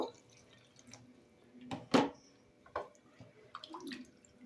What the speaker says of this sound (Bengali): এখানে আমি হাফ বাটির মতন জল দিয়ে দেব